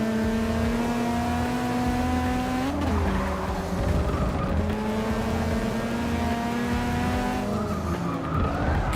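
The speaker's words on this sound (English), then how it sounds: "I just lock up the brakes all the time" Tyres squeal loudly under locked brakes in the Forza Motorsport 6 racing game during night racing, with the engine note dropping and rising again around two long skids.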